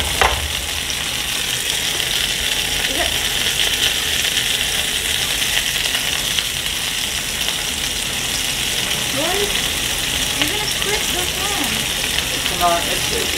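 Blackened salmon and garlic herb cod sizzle together in a well-seasoned cast iron pan, giving a loud, steady frying hiss throughout with occasional faint scrapes and clicks.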